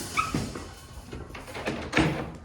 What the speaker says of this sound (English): Idra, can you close that door, please?